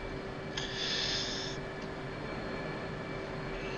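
F/A-18 Hornet jet in DCS World idles with a steady engine whine and a constant tonal hum, plus a brief higher-pitched hiss burst early on and no talk.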